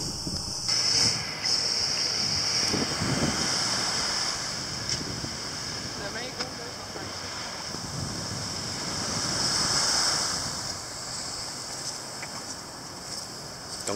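Sea waves wash onto the beach at Las Terrenas in Samaná, Dominican Republic, as a soft continuous surf that swells and eases, heard from a nearby wooden boardwalk with wind buffeting the microphone.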